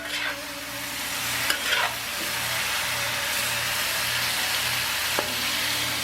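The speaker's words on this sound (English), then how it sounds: "So now we stir fry up that broccoli." Broccoli and shrimp stir-fry in a hot pan, giving an even, close hiss of sizzling with a couple of brief scrapes as the food is tossed; no voices.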